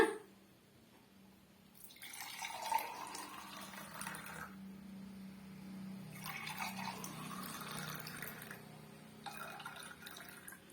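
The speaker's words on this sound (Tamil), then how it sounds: "இப்போ நம்ம கிளாஸில் வந்து ஊற்றிக்கலாங்க" Strained amla juice pours into a glass in a home kitchen, with soft trickling and splashing in three separate pours, faint and close in a quiet room.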